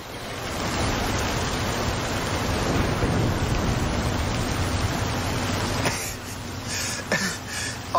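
Steady heavy rain hisses with a low thunderous rumble underneath in the video game Forza Horizon 5, then eases off near the end as a few sharper sounds come through.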